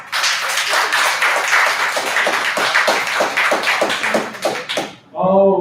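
An audience at a poetry slam applauds the poet with dense, loud clapping that holds steady for about five seconds, then cuts off abruptly before a brief spoken voice.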